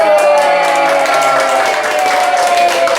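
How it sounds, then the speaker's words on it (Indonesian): Children applauding at a first birthday celebration, a dense steady patter of small hands clapping loudly for a few seconds, with voices and chatter mixed in underneath. "Tepuk tangan."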